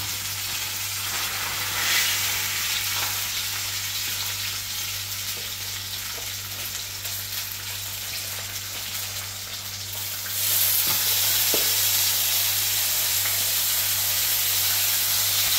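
Seasoning sizzles steadily in a hot pot for a Jamaican steamed fish dish, a close, continuous hiss that swells louder partway through, with no voices.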